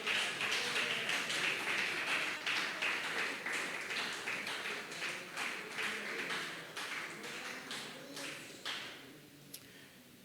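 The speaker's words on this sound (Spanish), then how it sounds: "Denles aplauso al Señor." A church congregation claps together in a steady rhythmic beat, moderately loud, slowing and thinning toward the end.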